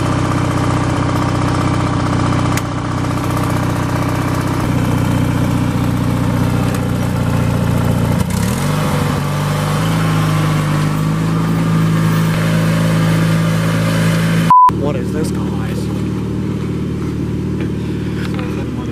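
A tractor engine idles nearby with a steady droning rumble that shifts pitch partway through, then cuts off abruptly near the end, leaving quieter background noise.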